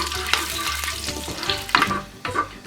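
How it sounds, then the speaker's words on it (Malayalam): Fenugreek seeds and curry leaves fry in hot oil in a pan for a Kerala-style pomfret fish curry, giving a steady sizzle broken by sharp crackles and the scrape of stirring, close and fairly loud. "ഉലുവൊക്കെ ഒന്ന് പൊട്ടിയിട്ടുണ്ട്."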